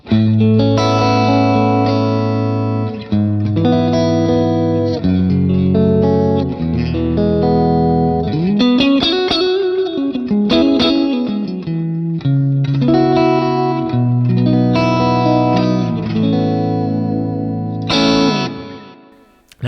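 Bright, crisp electric guitar through a Helix amp modeler set like a Deluxe Reverb with the bright switch on plays chords and single-note lines, with a lively, trebly edge and light distortion, no voices.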